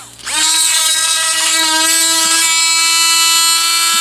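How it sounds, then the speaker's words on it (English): A power drill whines steadily at high pitch after a brief start, boring continuously and loudly into plastic for several seconds with a slight strain partway through. "is where I want the drill to go into here"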